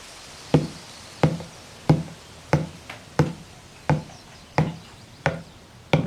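Someone pounds a log, though not black ash, to loosen basket splints: about a dozen sharp, loud, dull knocks in a steady, unhurried rhythm, with no talking.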